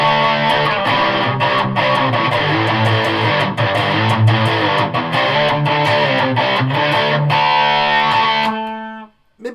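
Electric guitar played through a Rat distortion pedal into a Victory Sheriff amp, with a reverb pedal also on: loud, saturated chords and picked notes with a thick overdriven tone, played continuously before ringing out and stopping abruptly near the end.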